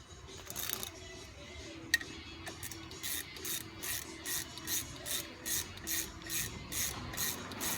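Ratchet tightening the brake caliper pins on a 2004 Chevy Impala during a front pad and rotor replacement, a close, rhythmic series of clicking pulls after some scraping handling, with no talking.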